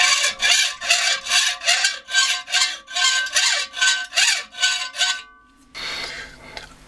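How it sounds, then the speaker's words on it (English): A hacksaw cuts with a quick, even rhythm of about a dozen rasping back-and-forth strokes up close, then stops and is followed by a short, softer scraping noise. "you can lean the top of the hacksaw over, and then that will bias the cut towards one way or the other"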